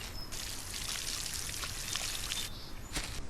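Watering plants with a watering can in the SolarPunk video game, a steady light trickle and pour of water running continuously for several seconds, with a few brief drip-like accents near the end.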